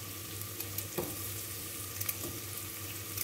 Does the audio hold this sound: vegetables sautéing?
yes